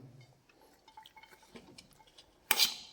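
Quiet soft tapping and rustling as chopped chicken sandwich filling is tipped into a bowl, ending in a brief louder clatter and clink.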